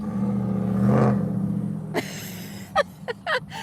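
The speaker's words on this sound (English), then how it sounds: "you're gonna hear all these loud Bubba trucks" A steady, loud pickup truck engine rumble that swells and then fades in a small-town Texas Walmart parking lot, followed by a few sharp knocks and clatters.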